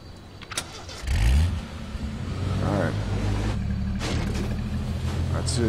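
A car in the video game H1Z1 starts up, its engine catching with a loud burst and then settling into a steady, close drone as it pulls away, while players talk over it.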